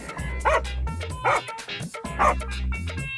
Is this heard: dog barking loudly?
yes